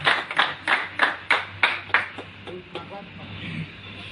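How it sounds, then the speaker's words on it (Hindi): A crowd applauds the team captain at the Gousia Cricket Club's annual appreciation awards in Pehroo, Anantnag. Brisk, rhythmic clapping comes in close, even bursts, then thins out and fades over the last second or so. "जोरदार तालियां"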